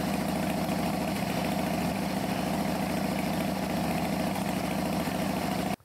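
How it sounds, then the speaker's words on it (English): A motorcycle engine runs at a steady idle, loud and close, with an even rhythmic thrum that continues unbroken until it cuts off abruptly at the end. "Then you can fire the motorcycle up and you can test the battery while the bike is running"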